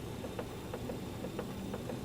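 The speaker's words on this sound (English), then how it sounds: "All the engines are still running." BAe 146 jet engines running in Microsoft Flight Simulator give a steady, even hum with faint, regularly spaced clicks ticking over it, and nothing else.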